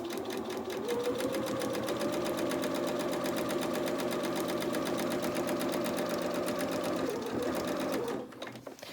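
Domestic sewing machine stitching a seam in stable cotton fabric, running steadily for about eight seconds with a continuous whirring buzz, then stopping abruptly near the end.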